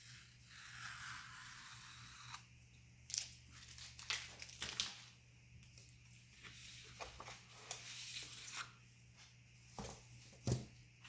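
Tape slowly peeled from paper around the border of a charcoal drawing, a run of soft crinkling rips and crackles in short bursts, close and quiet, with no talking.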